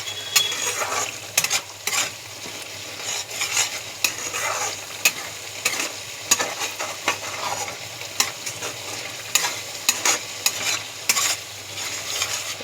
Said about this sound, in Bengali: দেখুন মশলাটাকে কিন্তু তেলটা ছেড়ে এসছে, আর একটু ছাড়বে। আর নাড়াবেন, নালে নিচে কিন্তু লেগে যাবে।